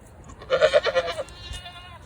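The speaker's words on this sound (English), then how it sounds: "Here come the goats for the day." Goats come out for the day on a homestead. One close, wavering bleat rises and falls in quick pulses for about a second against a quiet outdoor background.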